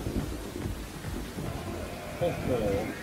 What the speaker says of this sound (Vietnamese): Mưa lớn quá Còn gió mạnh nữa